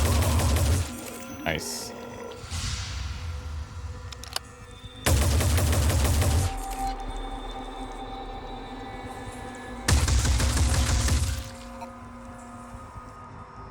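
Bursts of automatic turret gunfire from the Phoenix Point strategy game: three loud, sustained volleys of a second or more each, separated by quieter stretches of ambient battle noise, with a voice speaking briefly between them.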